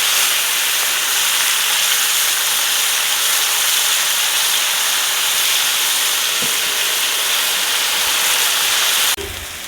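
Tomato paste fries in hot ghee for a village-style Pakistani fish karahi, giving a loud, steady, close sizzle and hiss that carries on unbroken before a sudden knock near the end.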